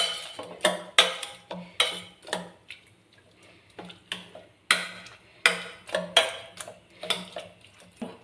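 Boiled vegetables for pav bhaji being mashed in a pot with a metal masher, a run of sharp clacking knocks in an uneven rhythm, loud and close with brief pauses between strokes.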